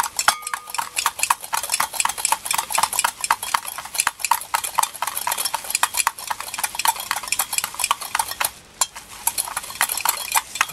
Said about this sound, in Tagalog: I-combine natin. I-mix lang natin dito.